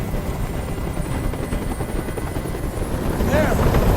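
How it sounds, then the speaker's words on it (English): A video game helicopter's rotor chops loudly and steadily nearby in Detroit: Become Human, a dense pulsing drone that grows slightly louder toward the end, with a voice briefly underneath. "Tell that helicopter to get out of here."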